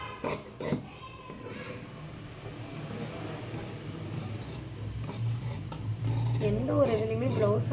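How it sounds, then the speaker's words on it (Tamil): Scissors snip through chudithar fabric in a few short rasping bursts near the start, then steady low room hum carries on, with a voice talking near the end. "அப்படி முடிஞ்சு இப்போ கட் பண்ண போகிறேன்."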